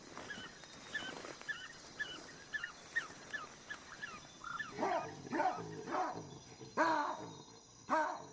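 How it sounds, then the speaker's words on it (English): A deep animal howl calling a herd together: a series of short, rhythmic moaning calls, faint at first and then louder, repeating roughly every half second against an outdoor wild background. "A signal sounded, a deep, decisive howl."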